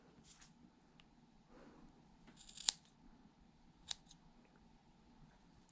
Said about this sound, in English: Cut the looped ends and remove the pom-pom.